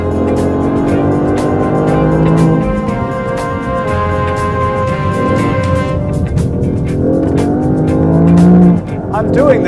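A 300-horsepower Lexus LBX Morizo RR subcompact crossover driven hard, its engine revving and shifting loudly with brief tire squeal, heard from inside while a person talks over it.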